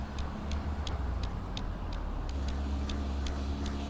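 Alfa Romeo Tonale driving through Paradise Valley, with a steady low engine and road rumble throughout and faint regular ticking above it, no voices.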